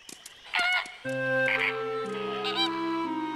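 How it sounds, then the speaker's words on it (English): Cartoon flamingos honk and squawk in a few loud, brassy calls that stretch into long, wavering tones. "Flamingos!"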